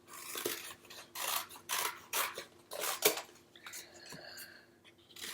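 Scissors snip through cardboard along curved lines, a run of rough, rasping cuts in a loose rhythm, close and clear, with no talk.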